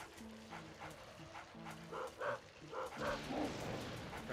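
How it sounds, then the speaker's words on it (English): Puppy yips and barks from the video game Luigi's Mansion, a few short barks bunched midway over a steady musical game soundtrack, moderately loud. "Hey there, puppy."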